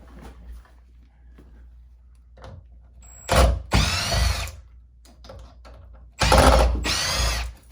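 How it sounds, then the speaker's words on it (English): Bed frame screws are backed out of a loft bed with a power drill or driver, two loud whirring bursts of a few seconds each standing out over faint clicks and handling noise, close by with no talk. "And now remove the rest of the bed frame screws."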